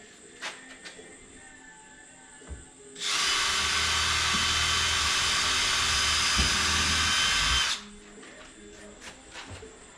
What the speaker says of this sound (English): All right, I'll screw it in.